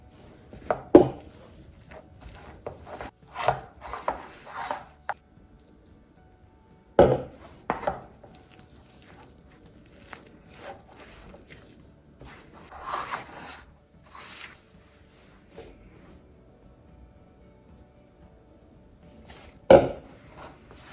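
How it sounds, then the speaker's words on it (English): Spinach puree is worked into flour to form flatbread dough, giving soft rubbing and mixing noises broken by a few sharp clatters of utensils against a bowl, close by and irregular. "Just going to add the puree directly into the flour and then bring it together into a dough."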